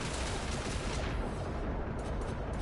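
A cannon in a video game fires on the player's character: a dense, continuous wash of heavy booming blasts and rumbling noise, loud and close, with no distinct gaps between shots.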